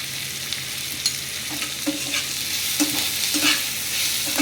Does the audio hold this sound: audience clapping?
no